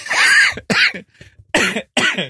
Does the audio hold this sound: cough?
yes